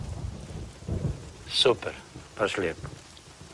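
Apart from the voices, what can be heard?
thunder and rain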